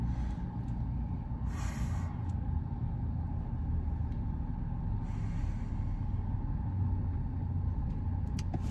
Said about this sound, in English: We're stuck in traffic.